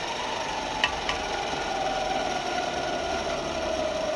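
Steady, continuous rasping as a viking drinking horn is trimmed down to make it thinner, close and even, with a couple of sharp knocks near the start.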